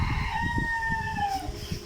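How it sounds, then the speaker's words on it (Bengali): Japanese quail in a poultry enclosure give a drawn-out, slightly falling call that sounds clearly against a busy background of clucking and chatter from the flock. "এই যে দেখতেছেন আমাদের কোয়েল পাখিগুলো"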